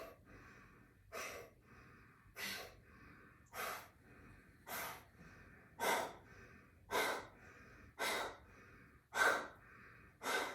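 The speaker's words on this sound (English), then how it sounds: "Keep breathing." Slow, deep breaths during a yoga breathing exercise, about nine evenly paced airy inhales and exhales, close and fairly quiet, recurring every second or so against a faint hum, with no speech.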